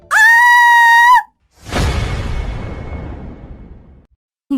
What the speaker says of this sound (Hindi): जोरों से चीखने लगी।